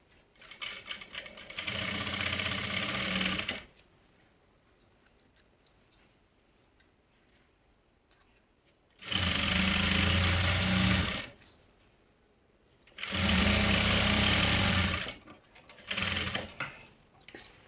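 Sewing machine stitching a salwar, running in three loud close bursts of rapid rhythmic chatter separated by quiet pauses, followed by a short final burst.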